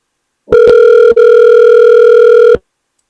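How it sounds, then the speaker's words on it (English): A loud, steady telephone call tone plays while calling someone back on a phone line: a brief first beep, a short click, then one long continuous tone that stops abruptly. "So I'm about to call one of these people back."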